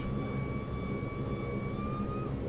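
Saab 340A turboprop airplane engines hum steadily with a sustained whining tone over a broad roar.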